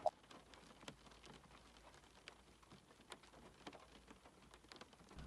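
Rain falling in steady soft patter with scattered sharper drops, faint and continuous, with no voices present.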